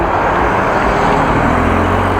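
Car passing on a road during a bike ride from Groningen to Appingedam, a steady broadband roadway rush throughout, loud and close with no talk.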